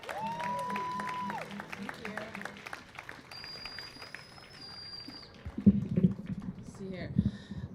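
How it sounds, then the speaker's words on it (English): An audience at a May Day teach-in at San Diego City College breaks into applause for the speaker Christy Ball. The clapping is moderate and rises briefly near the end over a roomy background with some tonal sounds. "Please, big round of applause for Christy Ball."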